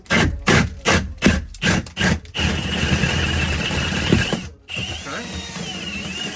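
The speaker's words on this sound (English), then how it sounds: "You're gonna drill through that. The plasterboard." A power drill whirs in several short bursts, then runs steadily for a couple of seconds, stops briefly, and starts again more quietly, close by, boring a 1 3/8 inch hole through plasterboard.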